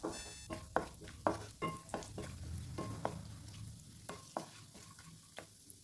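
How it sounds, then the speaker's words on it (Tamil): Chopped almonds and cashews roast in ghee in a kadai, with a soft steady sizzle broken by repeated sharp spatula scrapes and taps against the metal, fairly close. "நெய் சேர்த்துட்டு அது கூடவே முன் பாதாம் முந்திரியும் சேர்த்து நல்லா இப்போ வறுத்து எடுத்துக்கலாங்க"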